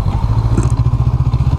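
A Honda CB500X 2019 motorcycle engine rumbles steadily up close, a low pulsing throb with a regular rhythmic beat and no talk over it.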